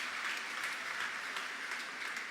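Faint, steady applause from a congregation at a National Mission Congress church gathering honouring the committee members and bishops, a soft continuous patter heard at a distance with no voices over it.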